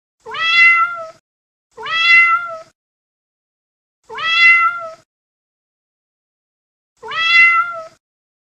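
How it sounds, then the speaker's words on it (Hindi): A cat meows four times, each a clear drawn-out cry separated by silent pauses of a second or more. "ओह, ये तो बिल्ली है।"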